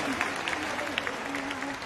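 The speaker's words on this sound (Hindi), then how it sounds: "आप सबने तालियां बजाई" An audience at a Hindi poetry recital applauds, a steady wash of clapping from a crowd, fairly close and even throughout, with voices faintly beneath it.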